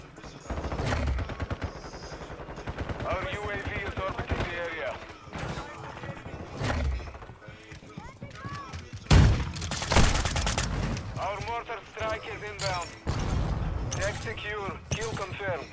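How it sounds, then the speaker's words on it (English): Gunfire in a shooter video game, with shotgun kills sought to unlock the MX Guardian: scattered sharp shots and bursts, one louder crack near the middle, mixed under frequent talking and game voice lines throughout. "Taking fire."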